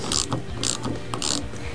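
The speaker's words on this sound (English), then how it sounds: "Now we can go ahead and tighten down the latch bracket, and we can tighten down the strike plate." Tonneau cover latch bracket and strike plate being tightened down on a Ford F150 with a ratchet, three quick bursts of close clicking in an even rhythm, no talk.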